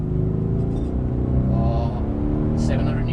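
A Mercedes-AMG C63S bi-turbo V8 pulls hard under acceleration from inside the car, a loud, dense engine roar rising in pitch, with someone talking over it.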